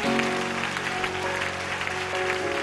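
A church congregation claps together in praise, a steady, fairly loud wash of applause from a crowd, with sustained music tones underneath.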